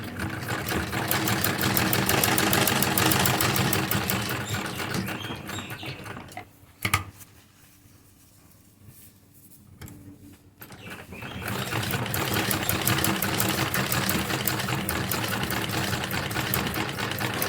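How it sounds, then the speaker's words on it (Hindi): Sewing machine stitching a salwar hem design, a loud rapid mechanical whir that stops for several seconds in the middle, leaving a few faint clicks, then resumes at full speed. "वापस से हम सिंपल सिलाई लेकर जाएंगे।"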